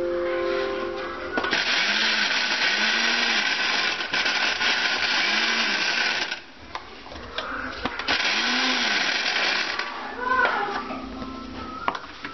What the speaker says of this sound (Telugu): వేసి పచ్చా పచ్చాగా మిక్సీ పట్టుకోవాలి.